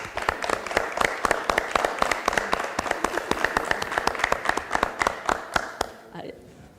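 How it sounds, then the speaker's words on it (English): Audience applause at a Fresno city council meeting, a dense run of hand claps that holds steady for several seconds before tapering off near the end, with a voice briefly audible as it fades. "So if everyone could give them a round of applause."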